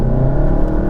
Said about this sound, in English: hard-edged and I think a genuine engine noise